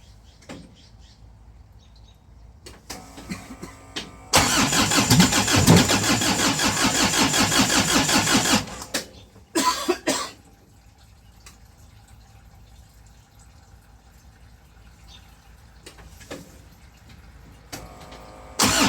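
An Isuzu diesel swapped into a 1950 Chevy cranks loudly for several seconds in a harsh, even churn, then falls quiet, followed by a brief second burst and a short stab at the very end, close by.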